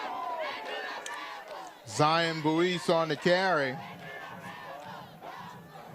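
A raucous football crowd at a Morehouse vs Albany State college game, with students and fans roaring and yelling in a swelling burst under a commentator's play-by-play call.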